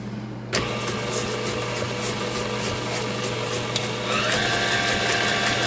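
Electric mixer beating sugar into chocolate cake batter, a steady close whirring drone that starts abruptly and runs continuously, rising slightly in pitch near the end.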